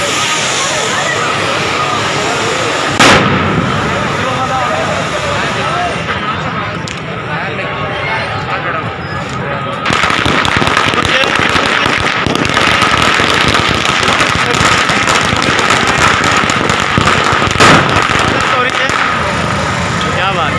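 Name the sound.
fireworks and firecrackers at Holika Dahan celebration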